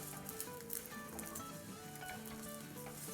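Edible gum (gond) frying in hot ghee in a pan, giving a steady soft sizzle with faint scattered light pops throughout, no voices.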